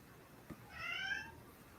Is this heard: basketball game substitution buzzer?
no